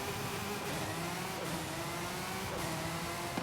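A McLaren sports car engine in the racing game Forza Horizon 5 drones and revs steadily, with pitch rising and falling a few times, loud and continuous without talk.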